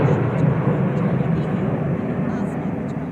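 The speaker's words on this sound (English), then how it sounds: "comprising 5 Rafale aircraft. Arrowhead formation, 300 meters at the height of AOL, above obstruction level." Five Rafale fighter jets fly over in arrowhead formation at about 300 metres during a Delhi flypast, producing a loud, sustained roaring rumble with a voice talking over it.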